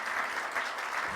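A short burst of audience applause at an academic panel on contemporary sounds and arts, with even, steady clapping heard for just over a second.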